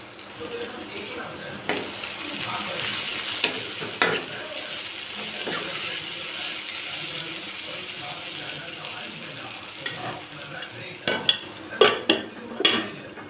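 Garlic, cumin and chili paste frying with half-cooked tomatoes in mustard oil for a fish dish, giving a steady close sizzle with scattered stirring clicks and a cluster of sharper scraping knocks near the end.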